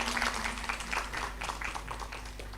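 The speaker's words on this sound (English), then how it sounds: "Please give it a big applause and" Audience applause at an international semiconductor manufacturing conference, a steady patter of many hands clapping in a large hall, moderately loud and even throughout, with a low hum beneath.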